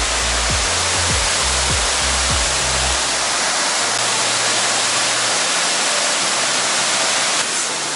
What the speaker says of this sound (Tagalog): Ito yung waterfalls. Dito kami sa Shifen Waterfalls.